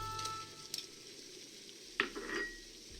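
Vegetables, legumes and tubers tipped into a simmering herdbeast stew, a soft sizzle and stir with a couple of sharp clinks of utensil on pot, faint and close.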